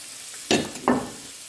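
Onions and mushrooms fry in olive oil, two quick bursts of sizzle and stirring rising briefly over a soft, steady background hiss.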